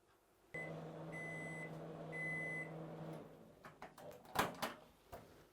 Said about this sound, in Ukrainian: ставимо в мікроволновку е, топити е, шоколадну глазурь